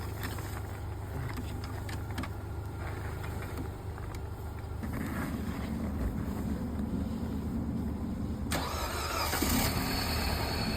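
A car engine cranks and fires up with help from a strong jump-starter booster. A steady idle rumble sets in about halfway through, over constant wind noise, with no talking.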